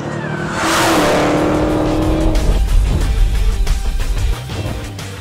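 A 2015 Dodge Challenger SRT Hellcat launches on a quarter-mile run, its engine roaring up with a brief tire squeal from wheel spin, then pulling hard and loud with rising, stuttering revs as it accelerates away.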